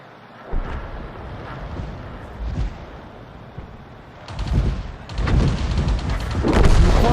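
Heavy booming shots in World of Tanks, a tank cannon blast followed by rumbling explosions, with louder, denser crashes building toward the end.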